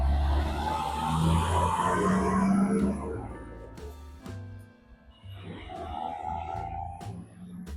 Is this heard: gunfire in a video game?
no